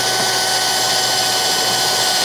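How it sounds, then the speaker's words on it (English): A power drill bores steadily into the plastic wall of a Ski-Doo Expedition snowmobile cargo box, where an ice auger mount is being fitted. It makes a continuous, close, harsh whirring grind for the whole stretch with no pauses. "That drill bit is hurting."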